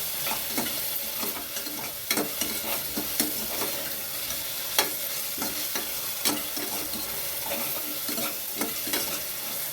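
Onion sautés with ginger garlic paste in a pan for tomato rice, making a continuous loud sizzle broken by the scrape and clack of stirring at irregular intervals.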